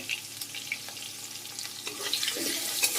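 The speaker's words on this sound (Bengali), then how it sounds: "আলুটা ভাজতে থাকছি" Potato pieces seasoned with salt and turmeric fry in a pan for a lamb curry, making a continuous close sizzle with scattered crackles and soft stirring scrapes, no talking.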